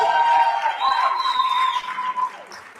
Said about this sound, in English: Let's get into another round of applause